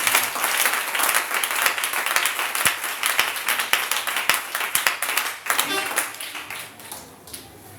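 A church congregation breaks into loud, sustained applause and clapping that fills the room, with cheers and voices mixed in, tapering slightly toward the end.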